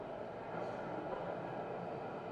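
A train rumbles steadily past at Begumpet railway station, a continuous broad, fairly faint roar with no break.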